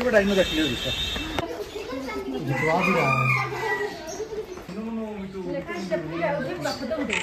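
A jungle fowl crows and clucks nearby amid people talking over it in Darjeeling, its calls rising and falling in drawn-out cries.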